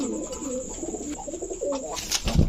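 Pet pigeons kept in pairs at a seller's place coo in soft, repeated throaty phrases close by, with a few overlapping calls and a louder flutter of sound near the end.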